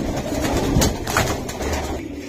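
Giribaz racing pigeons coo continuously, close by, inside a coop on a pigeon farm, with soft rustling mixed into the steady murmur.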